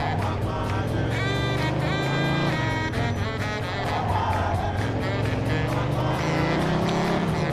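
A car engine drones steadily in the Mafia II video game, holding a constant, loud revving tone that rises and shifts slightly with acceleration and continues throughout.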